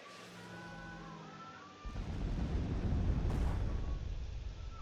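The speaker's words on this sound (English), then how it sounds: "Bomber's probably going to hit the artillery piece." A bomber striking an artillery piece in the card video game KARDS, a sudden heavy explosion breaking in after a quiet tone, then a sustained loud rumbling blast that lingers to the end.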